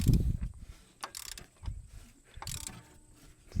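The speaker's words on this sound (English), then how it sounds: "when we put a ratchet on here, it turns real easy for about half a turn, and then it just stops solid." Ratchet wrench turning the engine over on a 1972 Plymouth Duster, a few short clicking, mechanical bursts spaced out with quiet gaps between them, fairly close.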